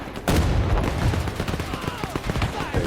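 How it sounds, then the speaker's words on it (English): Gunshots in Men of War 2, a loud burst of firing followed by scattered shots and rattling bursts of gunfire throughout, with voices talking under the battle noise. "they're popping shots"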